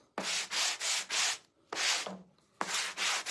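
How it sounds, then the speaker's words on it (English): Close, crisp strokes of a sanding block rubbing wood, three short bursts of quick back-and-forth scrubbing separated by brief pauses. "first I'm going to go over with a little sanding block."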